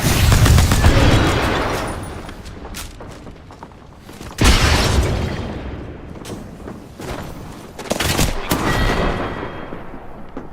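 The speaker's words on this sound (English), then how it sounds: "Grenade here" Loud gunfire and explosive bursts in a first-person shooter video game, with a sharp blast around the middle and another heavy burst later, dense and continuous throughout.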